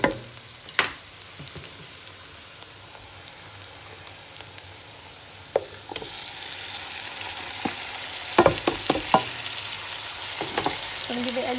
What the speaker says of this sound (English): I'm going to be adding in my mutton now.